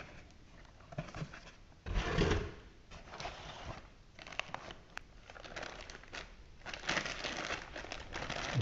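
Plastic bag crinkling while a replacement John Deere L130 pulley spindle is unpacked from a box with packing material, bursts of close, rustling crackle and rubbing with short pauses, one louder handling burst near the start.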